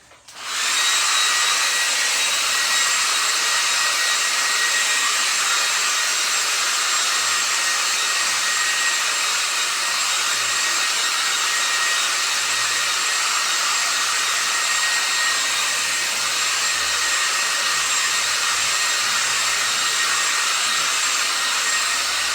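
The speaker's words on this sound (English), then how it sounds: "We'll blow dry that for a second" A hair dryer blows steadily on wet paint on an abstract painting, a loud, constant close-up roar that starts abruptly and holds unbroken for over twenty seconds with no talking.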